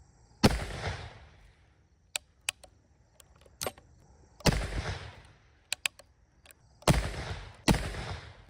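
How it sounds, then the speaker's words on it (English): Shots from a Springfield Model 1873 rifle in the video game Red Dead Redemption 2: four loud, booming reports with decaying tails, separated by sharp mechanical clicks and clacks of the action being worked between them. "Springfield rifle is a Springfield model 1873."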